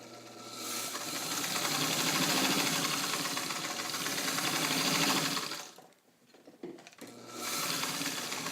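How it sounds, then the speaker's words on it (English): A restored Singer 66 sewing machine, modified for extra heavy sewing, stitches through four layers of garment-weight leather with a steady, close mechanical whirr and rapid needle clatter, briefly stopping, then running again. "let's see what the machine has to say about it"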